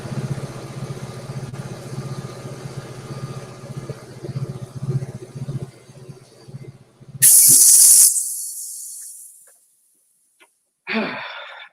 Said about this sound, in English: Oh, that's a signal. I got to go turn the air compressor off.